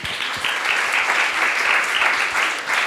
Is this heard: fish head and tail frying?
no